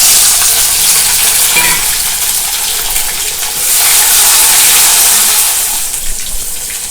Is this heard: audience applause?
no